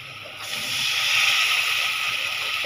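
A small splash of water goes into spiced masala of chili powder, turmeric and salt in a hot pan, bursting into a loud, steady hiss of sizzling that carries on close by.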